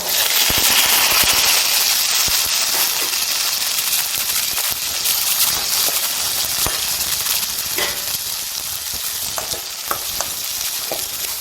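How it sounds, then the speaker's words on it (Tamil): Shallots and potatoes sautéing in a pan with cluster beans and peanuts, giving a loud, steady sizzle full of crackling pops and occasional stirring scrapes up close, without speech. "வரங்க சின்ன வெங்காயம் உருளைக்கிழங்கு எல்லாம் சேர்த்து வதக்கிக்கலாம்"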